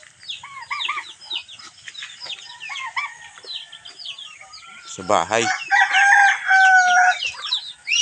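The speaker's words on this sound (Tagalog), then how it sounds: "Saka yung mga alaga kong manok." Several domestic chickens cluck and chatter close by on a farm while a rooster lets out a loud crow midway; a person speaks briefly.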